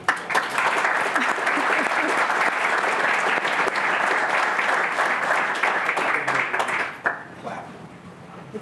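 Sustained applause from an audience at a county council meeting, dense steady clapping for about seven seconds before tapering off, with voices audible beneath.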